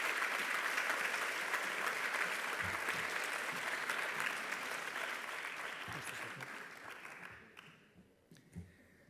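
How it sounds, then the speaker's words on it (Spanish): An audience at a graduation ceremony applauds loudly and steadily, the clapping thinning out and fading near the end with a few last claps. "un fuerte, fuerte aplauso para él."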